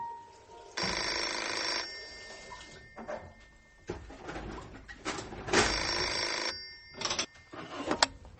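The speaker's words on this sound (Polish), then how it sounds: "Nie minęło dziesięć minut, gdy zadzwonił telefon." A telephone rings in a home setting as a sound effect in a Polish radio drama, with a sustained bell-like ring followed by several shorter bursts that are clear and fairly close.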